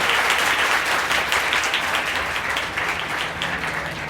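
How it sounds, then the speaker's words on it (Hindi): A large audience at a Women's Day event in Hyderabad honouring a police women's safety team claps loudly and continuously, a thick, sustained wash of applause with no talking over it. "हम सब लोग जोर से तालियों के साथ में सैल्यूट करते हैं।"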